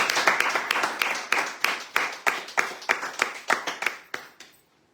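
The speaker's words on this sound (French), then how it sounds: "on les applaudit tous les vendredis" Applause in a radio studio: a small group claps in rhythmic, evenly spaced bursts, fairly close and loud, fading out at the very end.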